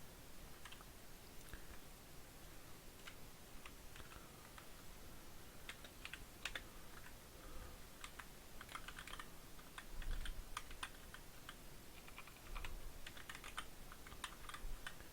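Quick, light taps on a computer keyboard and clicks of a mouse during drafting software work, including an Enter press, irregular and faint, with a few louder key strikes near the end, no talk.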